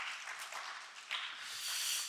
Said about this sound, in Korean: 우리 이렇게 수고하신 분들께 우리 한번 감사의 박수 한번 올리도록 하겠습니다